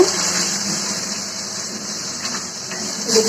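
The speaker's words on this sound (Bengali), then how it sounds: "পানি দিলাম" Water poured into a cooking pot while making a dish of dried fish and Malabar spinach with potatoes, a steady broadband splashing rush that runs continuously, fairly loud and close, with no talk.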